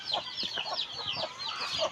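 Chickens cluck and chatter busily near a rural yard, a dense run of short, close clucks with a few higher squawks, and no talking.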